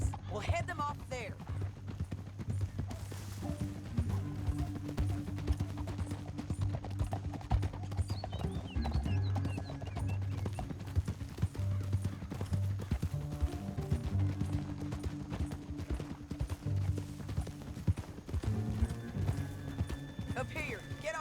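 Steady clip-clopping of horse hooves trotting along in Red Dead Redemption 2, close and rhythmic, with people talking over it and a low musical drone beneath.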